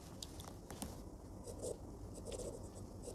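A pen scratching on paper during a Class 9 statistics maths lesson. Soft, close strokes and taps come in short irregular bursts over a low steady background hum, with no talking.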